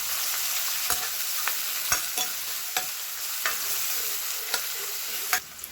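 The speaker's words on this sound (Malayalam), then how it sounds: "ഇത് നന്നായി വഴറ്റി കൊടുക്കുന്നുണ്ട് കൂട്ടത്തിൽ രണ്ട് കറിവേപ്പിൻ്റെയും കൂടി ഇട്ട് കൊടുക്കുന്നുണ്ട്" Ginger, garlic, shallots and curry leaves sauté in a pan for a Kerala fish curry, a constant sizzle broken by regular sharp clicks and scrapes of a spoon stirring, close and with no talking.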